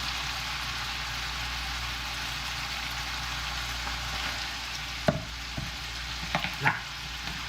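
Ribs frying in a pan give a steady broadband sizzle, with a few sharp spatters and clanks near the end, heard close with no talking.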